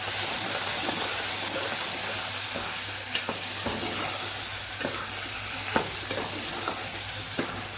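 Peas and potatoes with red chilli powder, turmeric, coriander-cumin powder and salt stirred in a sizzling pan: a steady hiss of frying with repeated scraping strokes of the spoon, close and fairly clear.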